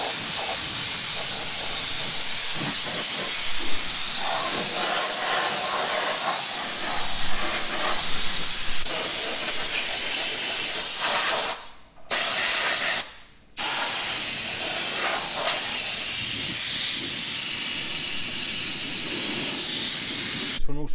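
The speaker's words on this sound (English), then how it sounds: "So I'll blast over it with the airline." Compressed air from an airline blasts over a mower in a loud, continuous close hiss, cut off briefly twice near the middle before resuming.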